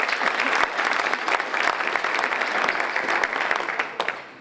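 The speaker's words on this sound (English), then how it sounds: "Please give them another round of applause." A crowd at a Rotary Club donation event at Westwood Elementary gives sustained applause, a dense, steady patter of many hands that thins slightly at the end.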